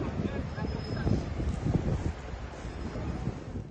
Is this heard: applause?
no